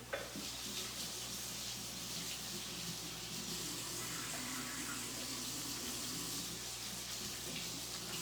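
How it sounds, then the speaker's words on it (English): A kitchen tap runs while hands are rinsed after handling partly frozen turkey. A steady, close hiss of flowing water splashes continuously for several seconds, with no voices. "let me rinse my hands of this turkey."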